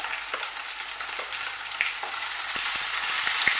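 Carrots and green peas fry in a pan for vegetable pulao, giving a steady bright sizzle with scattered spatula scrapes and taps as they are stirred. No voices.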